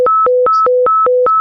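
A fire department dispatch alert for a station fire call: a loud electronic two-tone warble alternating rapidly between a high and a low pitch, about seven quick steps, clean and alone.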